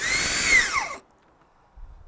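A Festool TSC55 cordless plunge saw on one battery spins up with a sharp, rising whine after the trigger pull, then cuts off abruptly into silence.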